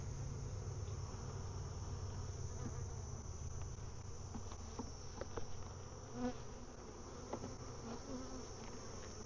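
Honey bees hum in a dense, steady drone around an open hive during an inspection after a honey pull, close and continuous with faint clicks of hive handling.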